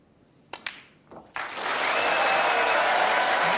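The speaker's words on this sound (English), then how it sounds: "for the applause when this black disappears" Snooker crowd at the 2019 World Championship semi-final breaks into sustained applause as the black is potted, following a couple of sharp ball clicks; the clapping swells quickly and holds loud and even.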